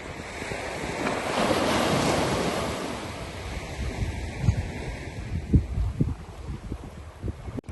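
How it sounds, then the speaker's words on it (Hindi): Ocean surf rolling and washing in at night, with a swelling rush of water and gusts of wind buffeting the microphone. "ये समंदर की जो है ना कुछ लहरें हैं, और देखें इसकी आवाज़ सुने"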